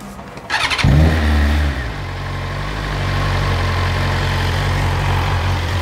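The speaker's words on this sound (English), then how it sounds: "It's like a mini cold start." A BMW engine cold-starting: a brief starter whir and catch, a loud flare of revs in the first second or two, then a steady, fairly high cold idle held close and continuous, with no talk.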